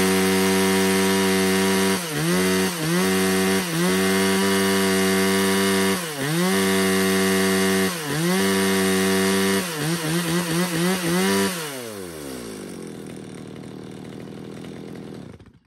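A two-stroke mid-range logging chainsaw engine runs loudly, revving up and down several times before cutting off and sputtering to a stop.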